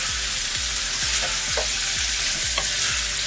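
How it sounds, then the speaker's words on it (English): Beef stew with Dijon mustard and meat juices stirred in a pot, a steady sizzle under a regular scraping rhythm of about two strokes per second, close and loud with no talking. "I'm going to give this a couple of stirs"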